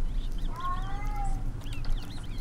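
A cat meows in the horror video game Erie, a single drawn-out, slightly wavering call heard clearly over a low ambient hum, with no talking.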